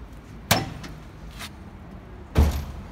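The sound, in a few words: car door slamming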